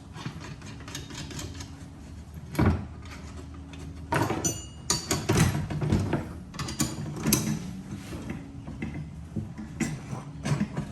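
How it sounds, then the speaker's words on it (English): A ratchet wrench bolts up parts on a Cummins-powered Nissan Patrol, with irregular bursts of clicking ratcheting and metallic clanks, some sharp taps, over a quiet background. "What I'll do is I'll just bolt these up just to line those holes up."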